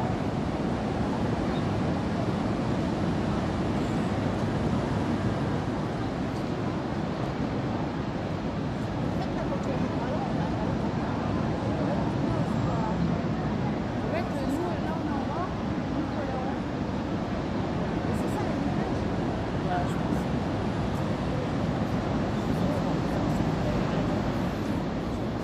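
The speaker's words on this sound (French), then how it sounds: "on est à la grande plage de Biarritz" Ocean surf rolls onto the big beach at Biarritz in a steady, continuous wash mixed with wind noise, fairly distant and even throughout.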